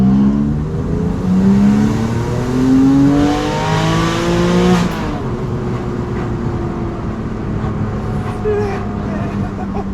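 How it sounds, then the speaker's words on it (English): A Porsche 997.1 Carrera 4S with a decat downpipe and two crossover pipes, its exhaust loud and droning as revs climb through rising gear-like tones, then settling into a steady rumble for the remaining seconds. "this car had a decat downpipe on it, 2 crossover pipes that were extremely loud"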